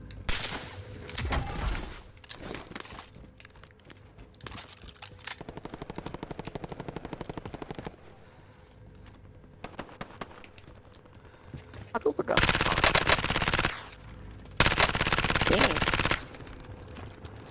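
Rapid bursts of CX-9 submachine gun fire in a video game, with several loud, dense bursts clustered near the end and quieter shooting earlier, under occasional talk.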